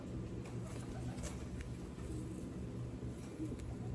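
Pigeons in a breeder loft coo in a low, continuous murmur of overlapping calls, steady throughout with faint background noise.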